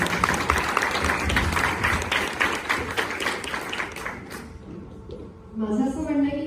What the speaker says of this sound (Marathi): एकदा टाळ्या वाजवल्या पाहिजे.